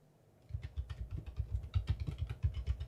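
Keys clack rapidly on a computer keyboard, a dense run of sharp, heavy strikes in quick uneven rhythm that starts after a short quiet moment and stays loud.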